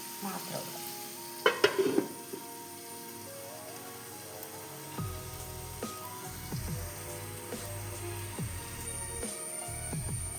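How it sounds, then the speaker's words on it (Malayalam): Sliced onions with turmeric softening in a pan, a soft steady sizzle under occasional clinks of a spoon and lid, with a burst of metallic clatter near the start. "മൂടി കൊണ്ട് ഞാൻ അടച്ചു വെക്കുന്നത് ആ ഉള്ളി ഒന്ന് വഴന്ന് വരട്ടെ"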